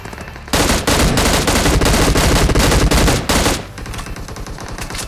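An M16 rifle in a mobile battle royale game fires a loud, rapid automatic burst lasting about three seconds, then cuts to quieter ambient game noise.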